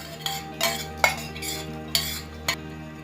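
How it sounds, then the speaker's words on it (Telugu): A spoon stirs fried tempering into yogurt in a metal bowl, producing several sharp clinks and scrapes spaced about half a second apart over a quiet kitchen hum. "ఈ పోపుని పెరుగులో వేసుకొని మిక్స్ చేసుకోవాలండి"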